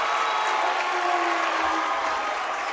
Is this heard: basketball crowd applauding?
yes